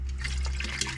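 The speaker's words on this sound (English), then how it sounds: "I'm gonna just fill this up with distilled water" Distilled water is poured into a container for rinsing zinc-plated parts, a brief close splashing and gurgling of liquid filling.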